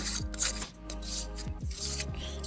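Metal castle nut spun by hand onto an AR-15 buffer tube, giving soft scraping, rasping rubs in short bursts with a few small clicks, close and fairly quiet.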